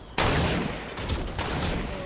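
Gunfire in the video game Fortnite breaks out abruptly as a loud, dense burst of rapid shots that keeps rattling on with a second surge later.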